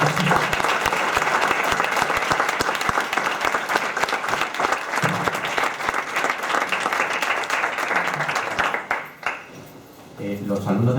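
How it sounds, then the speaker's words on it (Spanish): A university lecture audience of master's students applauds the professor: loud, sustained clapping that fills most of the stretch, then dies away near the end as a voice begins speaking. "Y yo la despediría con un aplauso porque ha sido una magnífica."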